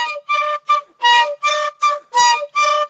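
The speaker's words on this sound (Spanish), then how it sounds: "recibimos el sonido típico de la pifiltra de Truf Truf, en dos, dos y tres tiempos" A traditional Mapuche pifilca wind instrument from rural Chile sounds eight loud, breathy whistled tones in short grouped bursts of two and three, clear and close with no other sounds.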